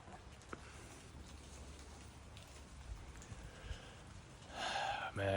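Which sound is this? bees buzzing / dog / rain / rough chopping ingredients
rain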